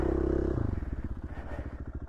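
A motorcycle chugs along a backcountry trail in Idaho, its engine throbbing in a loud, close, uneven pulse as it rides at low speed with rough, bumpy rhythm and no voices.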